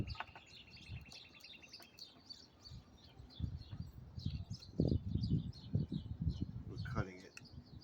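Small birds chirp and tweet around a broken backyard bird feeder in quick high bursts, while someone talks nearby and handles the feeder with low thumps and rustles.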